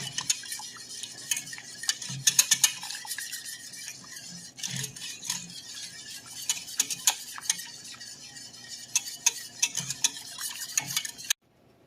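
Wire whisk stirring caramel sauce with evaporated milk or whipping cream in a pot, rapid scraping and ticking strokes continuing close up for several seconds before stopping.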